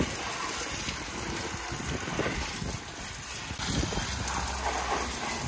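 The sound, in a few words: water hose spraying mud off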